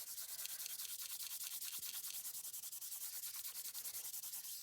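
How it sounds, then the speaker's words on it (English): Cotton pad rubbed briskly over inked card stock, a steady rapid scrubbing with even back-and-forth strokes close to the mic throughout, no talking. "we're just buffing it up now. We're taking that ink off the top."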